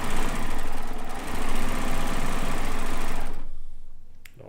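A sewing machine used for quilting runs steadily at speed, a fast even mechanical chatter for about three seconds before it stops and leaves near silence with a faint click, no voices.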